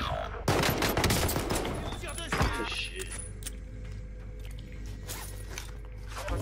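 Rapid bursts of gunfire in Warzone Pacific ring out loud and dense, with a sharp shot cluster near the middle before the fire thins into scattered reports over a steady background.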